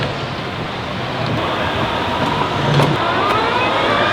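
A go-kart engine pulls away at a race start, heard as a steady, loud, broadband motor roar that builds slightly, with faint rising whines running under it.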